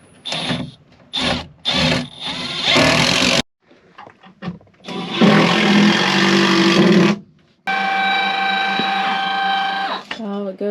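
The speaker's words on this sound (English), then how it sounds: "I almost want to run the screws and it will cinch it down just a little more." A power drill drives screws in close, whirring in several bursts of a few seconds each with short gaps between, while a person talks.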